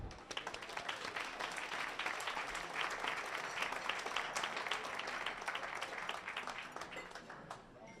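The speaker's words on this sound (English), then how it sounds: "Let's give a round of applause for Deena" Sustained audience applause after a storytelling session by a fireside, dense and steady for about eight seconds before easing slightly at the end, heard alone without talk.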